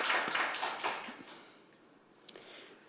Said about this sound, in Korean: 이건주 선생님 큰 박수로 모시겠습니다